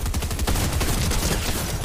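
Rapid bursts of gunfire in the Fortnite video game, dense and continuous volleys with machine-gun-like rattling across the whole moment, loud and close with no talking.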